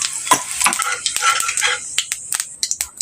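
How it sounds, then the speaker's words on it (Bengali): Whole white cumin seeds crackle and sizzle as they hit hot oil in a pan, a bright, busy frying hiss with sharp pops and stirring clinks, close and fairly loud. "তেল গরম হয়ে গেছে বন্ধুরা, আমি এবার দিয়ে দিলাম এখানে গোটা সাদা জিরে।"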